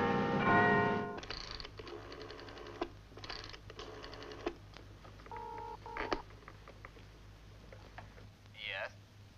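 Telephone dialing for a long-distance call from Paris, heard as a series of tones and mechanical clicks and pulses over a low steady hum, with a louder burst at the start and a brief rising whine near the end.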